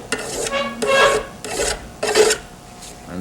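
A cabinet scraper pulled across wood in four rasping strokes, each about half a second long and evenly spaced, close and fairly loud.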